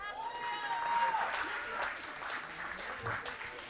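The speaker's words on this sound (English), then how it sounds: "Please give another round of applause to Sophia and Arturo." Audience applause at a school board meeting honoring two student athletes, a steady wash of clapping with a few voices and a whistle-like tone early on, filling the room at moderate loudness.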